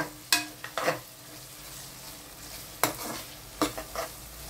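Garlic fries in a pan with a soft, constant sizzle, broken by several sharp clinks and scrapes of a spoon stirring against the metal.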